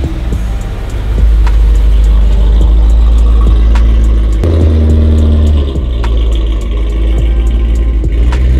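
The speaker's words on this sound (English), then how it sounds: "Let's go ahead and pull in the M3." A BMW E92 M3 with an aftermarket exhaust rumbles loudly at close range as it creeps into a garage, a deep steady engine tone with small throttle changes along the way.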